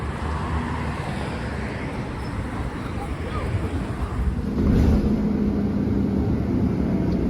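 A Gold line bus pulls in at a shoulder stop along a Baltimore bus lane, a low steady rumble with road noise that grows noticeably louder and closer toward the end.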